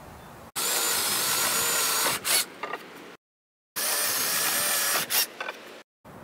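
A power drill drives screws into a wooden shooting-target base in two loud, sustained bursts, each whining for a few seconds, then easing off with brief trailing pulses, separated by a short silence.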